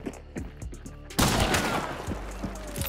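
Gunfire in the video game Hunt: Showdown: a few separate shots, then a loud burst of rapid firing and echoing reports that continues through the rest of the moment.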